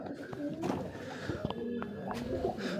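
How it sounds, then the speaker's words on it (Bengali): Pigeons at a pigeon farm give soft cooing calls and light bird sounds, while someone talks over them close by. "এই যে দেখতে পাচ্ছেন আমার কবুতরগুলো"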